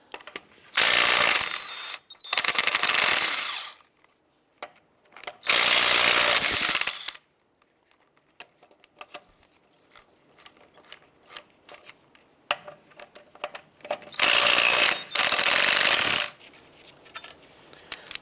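A power tool with a 19mm socket spins off lug nuts on a 2003-2012 Chevy Colorado's front wheel, in three loud whirring bursts of a few seconds each, separated by quiet clinks and handling noises.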